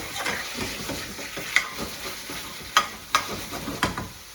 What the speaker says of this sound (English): Again, just cook out the spice for a few minutes.